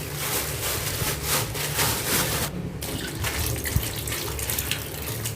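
Water runs steadily from a kitchen tap into a sink basin while raw chicken is washed under the stream, a close, continuous splashing gush with small knocks and shifts in flow.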